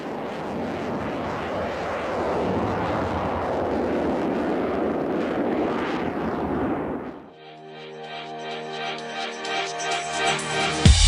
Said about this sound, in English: What a rapid jet, what a noisy jet.